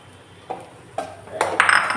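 A pan holds leftover crumbled puttu being mixed with grated egg, giving a few sparse metal clinks and scrapes of a spoon against the pan that grow slightly busier toward the end, close and fairly soft.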